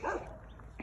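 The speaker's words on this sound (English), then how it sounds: "Olive is barking." A small neighbour's dog gives one short, fairly close bark at the start, followed by quieter low rustling with no talk.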